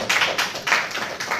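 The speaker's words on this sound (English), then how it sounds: "Let's clap for them." An audience claps at a meeting about Longrich toothpaste. The clapping is brief and close, coming in a few uneven bursts of hand claps with no voices over it.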